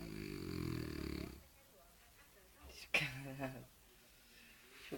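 French bulldog snoring in a raspy, rattling burst early on, followed by quieter snuffles and a sharp snort, while someone talks over the sounds.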